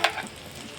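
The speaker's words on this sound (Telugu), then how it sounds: "టమాటా ముక్కలు కూడా దోరగా వేయించుకోవాలి." Tomato pieces fry for chicken curry, opening with a short sharp sizzle burst that settles into a softer steady hiss, close and with no voices.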